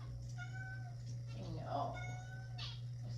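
A house cat meows insistently in a kitchen where soup is being made, several drawn-out, rising cries close to the microphone over a constant low electrical hum.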